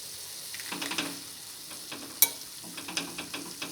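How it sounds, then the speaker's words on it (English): Tomatoes and tamarind sizzle in a hot pan for tomato chutney, a soft continuous frying hiss with scattered spits and pops and a few stirring scrapes, close and moderately quiet. "Now I am going to add tomatoes. And now add tamarind."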